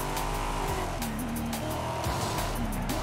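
Car braking hard in the racing game Forza Horizon 5 during a road sprint, a wavering tire squeal over a loud, steady engine roar that fills the whole span.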